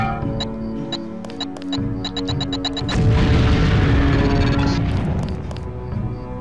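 A LAM explosive detonating in the video game Deus Ex, a loud, rumbling blast that follows a series of short electronic beeps and then slowly fades.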